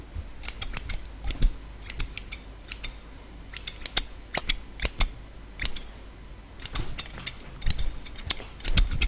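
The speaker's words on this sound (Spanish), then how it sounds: "a cortarte el pelo, no te muevas, no te quiero cortar una oreja" Scissors snip through hair during a haircut, close and crisp, in quick irregular bursts of rapid clicking cuts separated by short pauses, with no talking.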